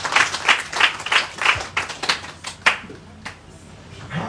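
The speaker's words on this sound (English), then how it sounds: "Please, let's clap for that sister." At a widows' forum meeting in Lagos, Nigeria, a small audience claps in a few rhythmic bursts that thin out into scattered claps before fading.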